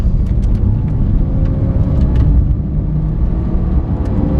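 Lamborghini Aventador with stiff suspension on the road, heard from inside the cabin: a loud, steady low engine rumble and road roar run unbroken throughout, with no voices.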